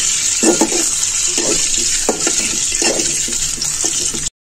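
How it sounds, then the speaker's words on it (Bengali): Boiled eggs fry one at a time in hot oil until brown for an egg and potato korma, with a loud, constant hissing sizzle and intermittent clinks of a utensil before it cuts off abruptly. "এখন আমি একটা একটা করে ডিম ব্রাউনিশ কালার করে ভেজে নেব।"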